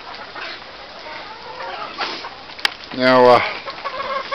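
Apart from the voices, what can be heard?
Polish hen and chickens clucking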